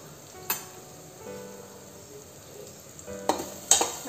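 Biryani masala, garam masala and chilli powder stirred with soya chunks in a hot pan, a low steady sizzle broken by a few sharp clinks of a spoon against the pan.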